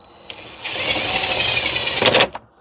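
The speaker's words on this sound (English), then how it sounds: "I'm going to go ahead and get my impact and" A cordless impact wrench drives a bolt while an assist handle is fitted on a Pontiac Solstice, giving a close, loud rattling burst of about a second and a half that ends in a few sharper hammering hits.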